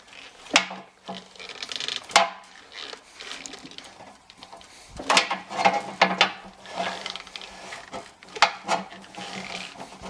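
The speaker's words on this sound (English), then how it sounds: "I'm just going to stick this block of wood under here with my pry bar, and I'm just going to lift up on it and just walk the belts off" A pry bar levers on a wood block to walk the drive belts off a Monarch lathe, giving scattered close creaks, wooden knocks, scrapes and sharp metallic clanks with quiet gaps between.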